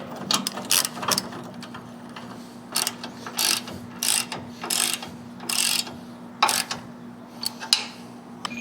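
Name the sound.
ratchet tightening nut on snowplow mount bolt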